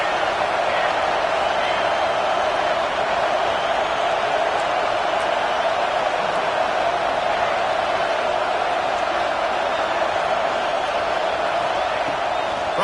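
A stadium crowd at a college football game between the Buckeyes and Wolverines roars steadily on a big third down, a loud, unbroken wash of noise with no lulls.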